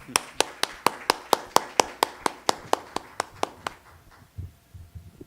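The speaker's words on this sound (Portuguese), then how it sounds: "eu peço aplauso de boas-vindas ao Aldemaro Taranto Goulart" An audience gives a welcome round of applause for a guest speaker at a talk on the poet Olavo Bilac, heard as a steady, fairly even run of close, crisp claps that fades out into a quiet room.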